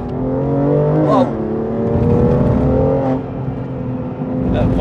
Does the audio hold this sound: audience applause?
no